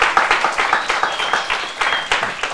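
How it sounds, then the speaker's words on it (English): Loud audience applause and clapping fill a book launch event, steady dense claps from a crowd with a faint whistle-like tone running through. "Give him a big round of applause"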